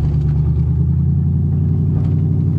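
A Mercury Marquis engine with a slipping transmission, low on fluid, revs in a loud, close, steady low rumble with a droning mid-range hum that rises slightly without the car gaining pitch sharply.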